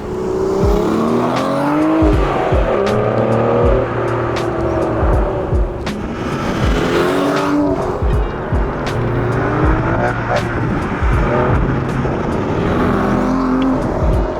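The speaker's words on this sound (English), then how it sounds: "today I'm going to be driving this extremely sought after and collectible Aston Martin V12 Vantage with a manual gearbox" A 2010 Aston Martin V12 Vantage sports car with a manual gearbox is driven hard. The loud, close engine climbs through the revs, drops at gear changes and climbs again, with tyre noise and no talk.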